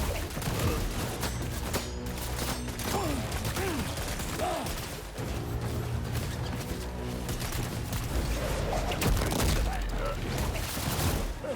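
Sustained assault rifle fire in the video game Death Stranding 2, with dense, continuous rattling bursts and mechanical clatter under game sound throughout.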